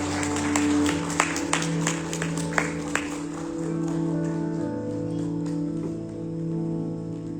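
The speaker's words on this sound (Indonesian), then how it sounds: "Kita berikan tepuk tangan yang meriah untuk mempelai pria." A crowd claps and applauds for the groom at a wedding ceremony in a large room, with scattered claps fading into a steady, sustained musical hum.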